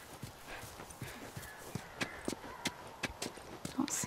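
Horse hooves clip-clopping in The Last of Us, a steady trotting rhythm of distinct hoof strikes close by, with a voice talking over the top.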